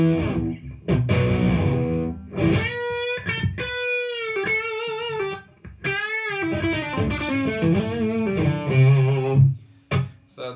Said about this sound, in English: just a drive sound.